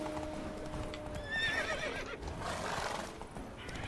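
In The Witcher III video game, hooves clip-clop steadily while a horse gives a shrill whinny partway through, all over a busy low background rumble.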